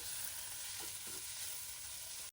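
Ginger garlic paste fries with onions in a pan for a cashew tomato curry, making a faint, steady sizzle with a couple of soft stirring sounds, ending in a sudden sharp knock.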